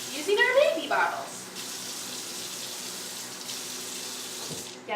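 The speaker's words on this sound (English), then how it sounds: "we're going to add in just a little bit of water. Oh, we are? Using our baby bottles." Water poured from baby bottles into a cooking pot makes a steady, close splashing pour for several seconds, briefly under a voice at the start.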